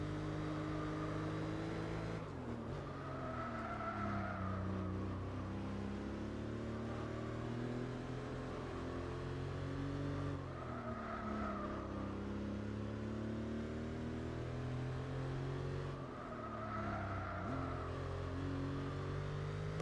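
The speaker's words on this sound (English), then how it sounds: "But now we get to flex that legendary turbocharged flat 6 on the back" Turbocharged flat-six engine of an LMP race car in Gran Turismo 4, droning steadily with repeated rising pitch sweeps as it accelerates through the gears, with no talking.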